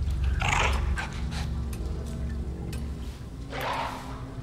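Low, rumbling dog growl from The Outlast Trials horror game, swelling twice amid dark ambient game sound, fairly close and steady with no talk over it.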